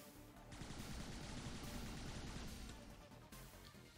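Sustained automatic gunfire from the turn-based strategy game XCOM 2, a dense rapid burst of shots running for a few seconds at steady volume before tapering off, with no talk.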